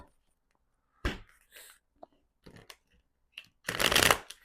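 Tarot cards riffle and slide in short, separate shuffling bursts close by in an otherwise quiet room. The final burst is the longest and loudest.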